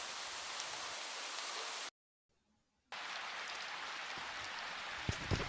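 Steady rain hisses evenly on a surface, briefly dropping out to silence for a moment before the same soft, continuous patter resumes.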